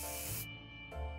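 A can of bug spray in the survival game 60 Seconds! Reatomized gives a single loud, close hissing spray that pauses briefly mid-way and then resumes, with no talk.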